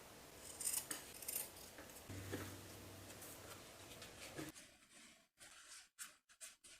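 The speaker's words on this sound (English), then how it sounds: "Trim those top corners of the seam allowance" Scissors snip at the top corners of a stretch denim seam allowance, a series of close, crisp cuts with scraping blade sounds, followed by a few sharp isolated clicks and handling noise.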